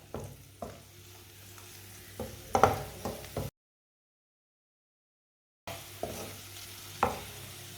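A snack frying and puffing up in a hot pan, heard as a soft sizzle with scraping stir clicks and light knocks, close by, broken by a silent gap partway through.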